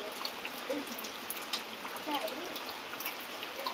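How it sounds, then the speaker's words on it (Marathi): Heavy rain falls in Nashik district with water running nearby, a constant faint rushing wash with scattered drip-like spatters and no clear voices over it. "नुसता पाणी चालू आहे मित्रांनो, पाऊस चालू आहे."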